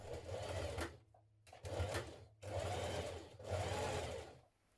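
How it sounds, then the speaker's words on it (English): A sewing machine top stitches around the pocket of a shirtdress in four bursts of fast, even whirring separated by short pauses, close and clear with no talk. "now we're going to top stitch around our pocket"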